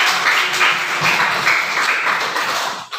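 Students in a classroom clap as a group after a presentation, a lively burst of many hands that holds steady before trailing off near the end.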